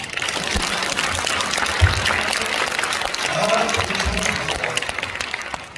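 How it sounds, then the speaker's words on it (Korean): A large congregation applauds steadily in a church auditorium during a thanksgiving worship service for a new church council president. The clapping is a dense, continuous wash for several seconds, with a few faint voices mixed in. "박수 한번 해요."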